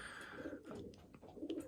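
Several racing pigeons coo continuously in a loft, producing low, rolling coos over a steady background of chirps and faint flutter.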